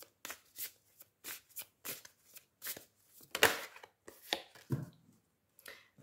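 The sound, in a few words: oracle cards being shuffled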